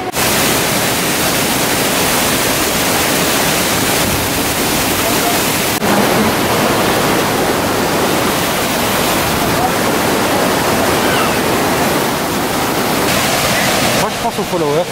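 A waterfall in Croatia roars loud and constant for the full stretch, a dense, unbroken rush of falling water close by.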